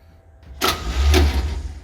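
A 1966 Chevy van engine cranks over after a quiet start, a loud low rumble building with brief bursts, close by and with no talk.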